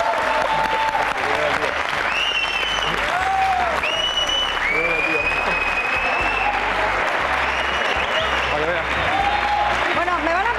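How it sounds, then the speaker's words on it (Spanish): Studio audience on a Spanish television show claps for a man named Manolo, a continuous dense wash of applause lasting throughout, with some voices and a tonal sound running underneath. "un aplauso para Manolo"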